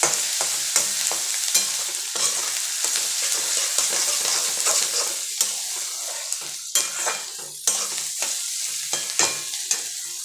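Onions sautéing in a pan on a home stove, a steady broad sizzle broken by frequent scraping and clinking strokes of a spoon stirring them, close and fairly loud with no voices.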